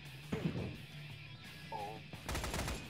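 Video game gunfire aimed at a MiG-21 jet: a brief shot burst early, then a dense rapid machine-gun stream near the end, with faint radio-like voice chatter between.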